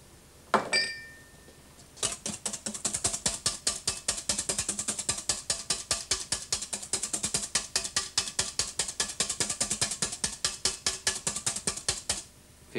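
Egg whites and powdered sugar are beaten firmly by hand with a whisk in a bowl, a fast steady rhythm of close metallic clicks and scrapes lasting about ten seconds.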